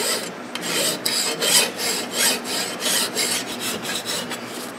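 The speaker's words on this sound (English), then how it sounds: "File and work the face here a little bit." A metal file rasps steadily across the cylinder face of a Husqvarna 254xp chainsaw, rhythmic back-and-forth strokes close up with no talking.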